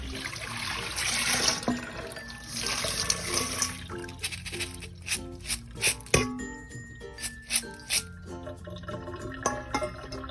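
Raw red beans washed in clean water, with steady running and splashing water first, then a rhythm of sharp drips, clinks and sloshes as the beans are rinsed. Close and fairly quiet, with no talking.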